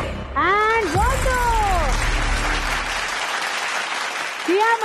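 A studio audience at a television game show breaks into loud, dense applause mixed with excited voices, which fades after a few seconds.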